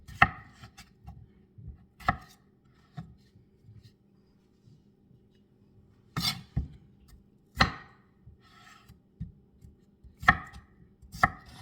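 A knife slices through wet potatoes on a cutting board, giving sharp, distinct chops in irregular bursts with quiet pauses between them. The sound is close and clear, with no talking.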